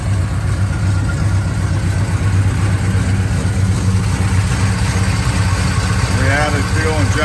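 A 1969 Chevrolet K10 with a fuel-injected 383 V8 runs at a steady idle, a deep, loud rumble that holds throughout while someone talks over it.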